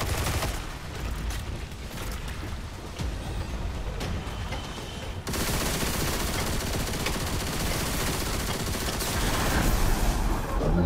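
Constant automatic gunfire in the sci-fi shooter Destiny 2, a dense rattling barrage that thickens and grows louder halfway through, with no voices over the roar.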